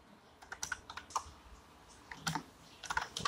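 Quick irregular bursts of keystrokes on a computer keyboard as Python code is typed, close and fairly quiet, with short pauses between clusters of clicks.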